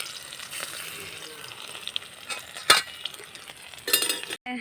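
Jackfruit seeds frying in oil in a pan, a close, continuous crackling sizzle with a few sharp clinks of a stirring utensil and a brief louder burst near the end.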